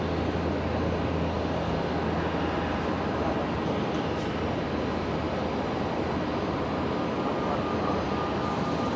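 A small Air Callan aircraft taxis along a taxiway at Brisbane Airport, its steady engine drone holding constant and fairly loud throughout against broadband airport noise, with no talk.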